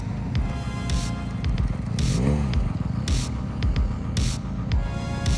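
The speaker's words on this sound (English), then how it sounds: "So I just asked the riders to drive around in circles" Several motorcycles riding around in circles nearby, engines droning and throbbing steadily with passing swells and occasional revs.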